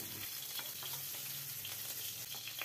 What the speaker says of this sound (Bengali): পটলগুলো যখন বেশ ভালো করে ভাজা হয়ে যাবে